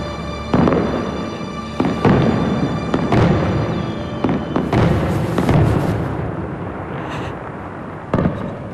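A fireworks display booms in a string of about seven sharp bursts, each followed by a crackling tail, the blasts loud and close with brief gaps between them and no voices.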